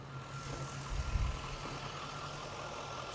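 A Corvette engine idles with a low, steady rumble and a constant hum, a brief heavier thump near the middle.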